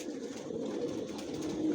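Adult Johnson racer pigeons in a loft keep up a low, rolling chorus of coos, a steady overlapping burble at moderate volume.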